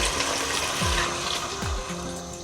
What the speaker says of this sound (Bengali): 1 মগ জল দিয়ে দেব